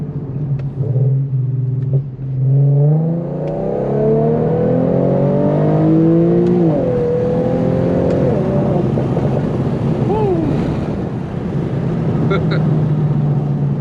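Infiniti Q50 with a 3.7 engine and a VR30 transmission accelerating hard, its engine note climbing and then dropping through several quick upshifts. The loud, close cabin rumble holds for the whole stretch.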